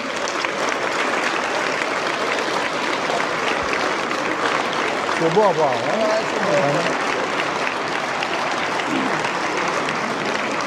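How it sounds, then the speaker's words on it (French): Sustained applause from a banquet audience fills the room at steady loudness throughout, with voices talking over the clapping. "Donc, une bonne main d'applaudissements."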